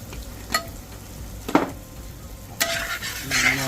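Masala with garam masala and pepper powder sizzles and fries in a pan while a spoon scrapes and stirs it in a few sharp clatters, with a steady frying hiss between them and no talk.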